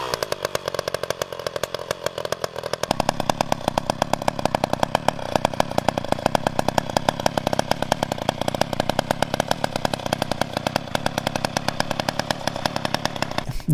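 Vintage chainsaw engine mounted on a motorized bike runs steadily with a loud, raspy two-stroke buzz and an exhaust leak, revving up after about three seconds and holding a higher, even drone.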